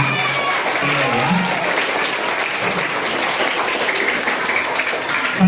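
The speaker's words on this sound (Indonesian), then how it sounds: "beri tepuk tangan dulu sama adik-adik ya" Elementary schoolchildren give dense, sustained applause during a police school visit. The clapping is loud and steady throughout, with voices mixed in.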